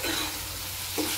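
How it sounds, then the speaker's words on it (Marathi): Vaal papdi (flat bean) bhaji being stirred and sautéed with salt in a hot pan, giving a steady close sizzle with two short scraping strokes of the spoon, no talking. "मीठ टाकल्यानंतर याला छान असं परतून घ्यायचं आहे"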